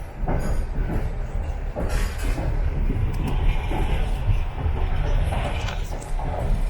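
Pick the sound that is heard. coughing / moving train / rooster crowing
moving train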